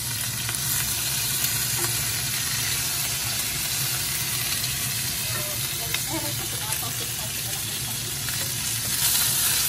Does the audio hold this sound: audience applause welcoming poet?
no